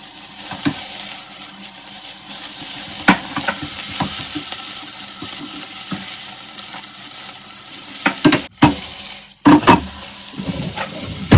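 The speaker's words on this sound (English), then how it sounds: "Just want to stir that around. Beef doesn't take very long to cook." Beef sizzles loudly in a hot pan while being stirred in a home kitchen, a constant frying hiss broken by sharp scrapes and clanks of the utensil against the pan near the end.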